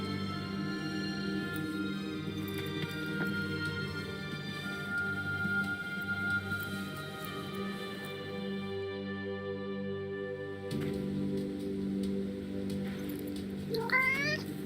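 A cat meows repeatedly inside the video game Forspoken, its plaintive calls rising over a steady background music bed, with a brief shift in the ambience near the end.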